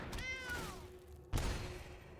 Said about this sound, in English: Probably a cat.